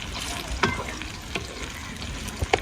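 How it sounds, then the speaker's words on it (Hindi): Okra hitting hot ghee in a pan, a steady close sizzle with a few sharp scrapes of a spoon stirring it through. "घी अच्छी तरीके से गर्म हो गया। अब इसके अंदर ऐड करते हैं भिंडी।"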